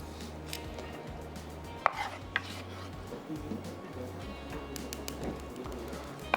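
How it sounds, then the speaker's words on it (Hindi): An onion is chopped into medium-size pieces on a board with a few sharp knife taps over a steady low hum, with faint kitchen clatter and no talking. "तकरीबन 1 अदद प्याज जो हम इसमें मीडियम साइज़ की चॉप करके डाल देंगे"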